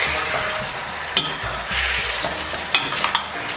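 Garlic, ginger, scallion and dried chili sizzle in a wok of caramelized rock-sugar syrup, a steady close frying hiss broken by a few sharp scrapes and knocks of a spatula stirring.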